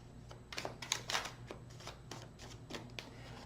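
Tarot cards being shuffled close by, a quick series of soft riffling flutters and taps in an uneven rhythm, fairly quiet, with no speech.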